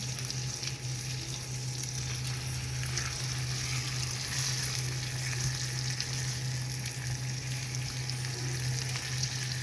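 Butter chicken cooking in an air fryer, giving a steady, even sizzle and hiss with a constant low fan hum, close and unbroken throughout, no talking.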